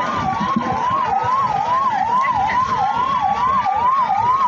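A wailing ambulance siren rises and falls in steady, rapid cycles, loud and continuous over a rumbling traffic background, at a Republic Day celebration in Buldhana.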